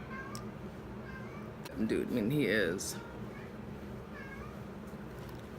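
A male cat gives loud, drawn-out wavering meows after hunting underwear, heard close by alongside a person talking.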